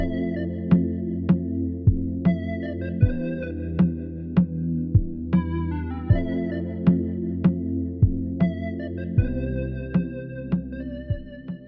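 A bright synth lead melody in a beat plays steady repeating notes over regular punchy kicks, loud and upfront with no voices.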